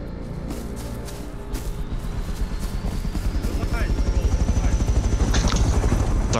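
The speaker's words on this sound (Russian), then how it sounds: "Три ордынских десантных вертолета собираются на штурм территории Альянса." Several Horde troop-landing helicopters in a video game approach for an assault, a steady rotor chop that swells louder as they draw near, with a rising whine above it.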